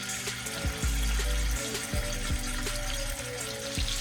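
Bacon-wrapped shrimp set into hot olive oil in a skillet give a steady, hissing sizzle with a few dull knocks and clunks from the pan, and no voices.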